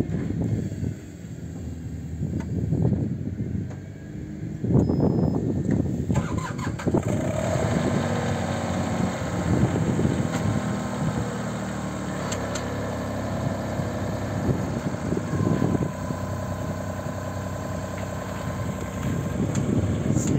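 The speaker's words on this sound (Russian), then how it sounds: "Сейчас запустим двигатель, посмотрим его манипуляции, вот проверим гидравлику." A Mitsubishi MM30SR3 mini excavator's diesel engine cranks, starts and settles into a steady, loud idle close by, with uneven clattering and knocks layered over the running engine.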